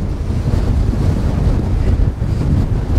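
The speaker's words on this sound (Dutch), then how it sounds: "Het is nu wel heftiger geworden, jongens, die wind." Strong wind buffeting the microphone outdoors, a loud continuous low rumble with gusty surges and no speech.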